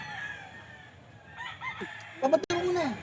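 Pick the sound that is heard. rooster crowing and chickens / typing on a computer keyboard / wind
rooster crowing and chickens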